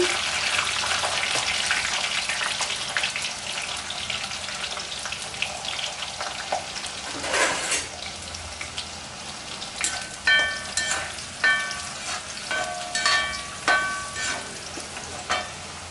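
Minced garlic frying in a pan with dried fish for a Chettinad curry, a steady close sizzle with spoon stirring clinks near the end and no talk.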